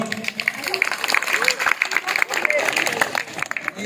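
Audience at a school ceremony honouring top students clapping in a busy, uneven patter, with voices mixed in over the applause.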